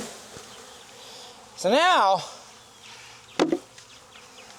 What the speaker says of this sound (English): I'm hiving my own bees. These are my bees.